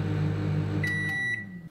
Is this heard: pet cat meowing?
no